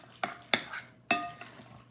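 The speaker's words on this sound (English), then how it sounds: "Stir this around." A spoon stirring cottage cheese and mozzarella in a bowl for lasagna filling, four distinct scraping knocks against the bowl at irregular intervals, close and fairly quiet, with no voices.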